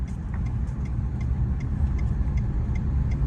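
A revived hybrid car's engine idles steadily after starting, a low, even rumble close by with faint regular ticking layered on top.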